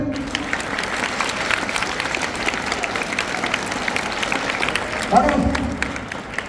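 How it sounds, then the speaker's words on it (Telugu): SSC students at a motivational training session in Jadcherla clapping together in a room, a dense steady patter of applause with crowd murmur that swells briefly near the end. "గట్టిగా చప్పట్లు పడండి"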